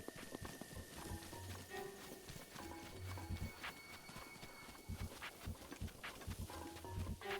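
A horse's hooves clop in a steady walking rhythm across open ground in Zelda: Breath of the Wild, moderately close and mixed with soft ambient game sound.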